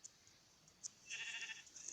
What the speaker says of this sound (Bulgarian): Охо, козичка, овца